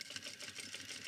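A sewing machine stitches a suit jacket shoulder seam, giving a steady, rapid mechanical rattle that runs continuously through the short moment at close range.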